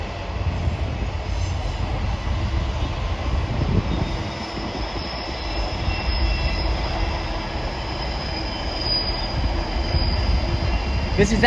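A Class 66 freight train rumbles past on the Didcot avoiding line in Oxfordshire, a steady broadband roar of wagons with faint wheel squeal holding throughout, heard from a station platform at moderate distance.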